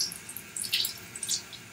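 Tap water runs steadily into a sink as hands are rinsed, a faint, soft splashing with light bright spatters, close by and without talking.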